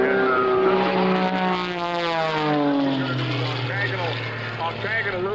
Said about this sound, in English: the German-built Goodrich Extra 300S, designed and built by Walter Extra in Germany, a 360 horsepower engine